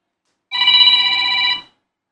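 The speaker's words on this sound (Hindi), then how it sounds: "फ़ोन आ गया," A telephone rings once, a single electronic ring about a second long, close, clear and alone against silence.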